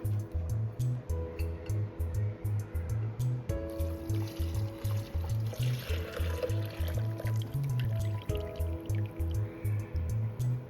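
Hot pot broth poured through a fine strainer sock, giving a steady liquid trickle and dripping with a low periodic thump underneath, fairly close and continuous without talk.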